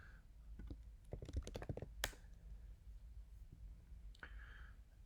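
Keys on a computer keyboard clatter in a quick burst of typing, followed by a single sharper click and a couple of soft taps, close and fairly quiet with no talk.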